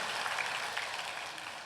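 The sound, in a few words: congregation applause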